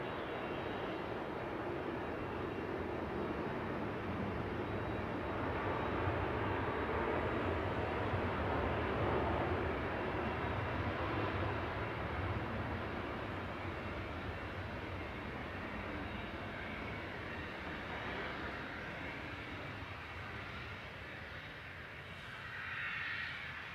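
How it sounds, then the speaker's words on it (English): A Ryanair airliner touches down at Manchester Airport, a steady loud broadband jet roar with engine rumble holding throughout, swelling slightly near the end. "As Ryanair touches down from Vienna."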